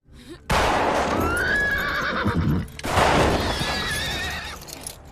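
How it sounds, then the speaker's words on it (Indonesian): Horse neighing loudly and close, two long whinnies one after another with a brief gap between them, each a wavering, trembling call, with no speech. "secara kemudian kuda suaminya pun ditembak oleh Catherine lalu dikubur untuk menghilangkan barang bukti"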